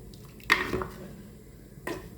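Fish curry stirred in a pot with a spoon, two quick clinks and scrapes against the pot's side, separated by quiet pauses, close and fairly soft.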